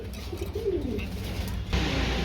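Pigeons held in a cage for sale coo softly at a market, low gurgling calls heard close under steady background noise and murmuring voices.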